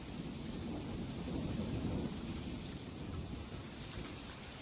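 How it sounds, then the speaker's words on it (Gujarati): Steady, dense unseasonal rain in Gujarat, India, roars with a gusty wind rushing underneath, loud and continuous with no voices. "ભર ઉનાળે પવન સાથે વરસાદી ઝાપટા પડ્યા છે"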